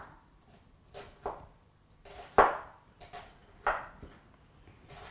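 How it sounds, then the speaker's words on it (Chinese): A knife dices onion on a chopping board, giving a few separate, fairly soft knocks against the board at an uneven pace. "咁洋葱咧，我就都係切粒嘅。"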